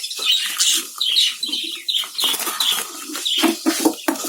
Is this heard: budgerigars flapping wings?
yes